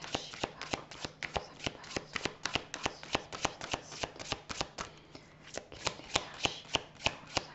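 Oracle cards are shuffled by hand in a steady run of crisp, close riffling snaps, each card slap sharp and regular with a brief pause midway before the rhythm resumes.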